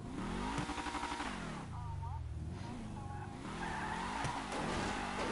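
A car does a burnout: its tires squeal and skid while the engine revs hard and pulses, loud and close, with voices talking over the noise.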